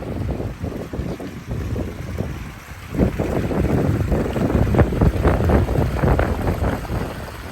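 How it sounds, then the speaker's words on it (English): A waterfall in a permaculture pollinator garden gives off a steady, close rushing splash, loud and continuous, with some wind buffeting the microphone. "Check out this waterfall."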